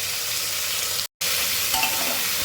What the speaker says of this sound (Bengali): ভালোভাবে একটু নাড়াচাড়া করে নেব।